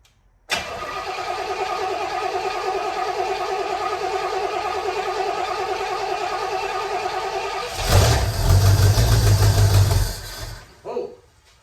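A 1973 Pontiac Ventura engine with a rebuilt Rochester 2-Jet carburetor cranks over with a rhythmic starter whir, then catches and roars loudly for a couple of seconds before cutting out, all close by.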